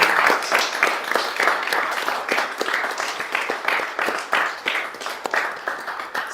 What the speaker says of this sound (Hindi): इनके लिए एक ताली तो जरूर होना चाहिए।